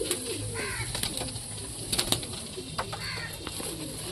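Several fancy pigeons in a loft coo repeatedly at close range, with soft overlapping calls, a few sharp clicks and brief wing flutters mixed in.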